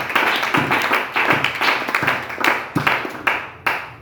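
A church congregation applauds in praise, a crowd of rhythmic hand claps falling into a steady beat of about two per second, loud and close, with no talking.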